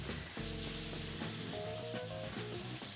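Herbs and sauce frying in a casserole dish over a strong flame, a steady, faint sizzle with stirring, while tonal music plays throughout.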